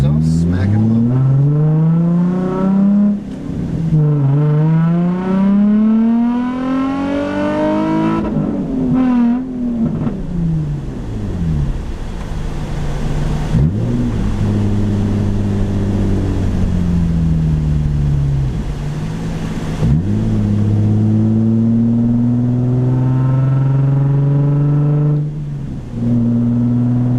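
A Nissan 350Z engine fitted with a 370Z Y-pipe revs up and down repeatedly through a loud exhaust, rising and falling pitch in long sweeps, close by.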